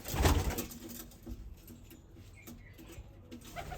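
Pigeons give soft coos at close range, starting with a loud rustling burst like wing flaps, followed by quieter shuffling and pattering sounds.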